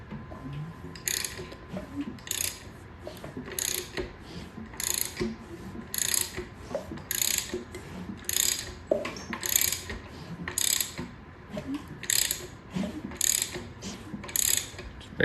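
A hand ratchet and socket turn over a Ford 5.0 GT40P engine with its plugs out, giving repeated bursts of crisp ratcheting clicks in a steady rhythm, close and fairly quiet.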